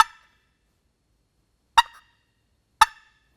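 Three sharp, isolated clucks imitating a turkey hen, made on a wooden box call, spaced unevenly about a second apart, crisp and close with silence between.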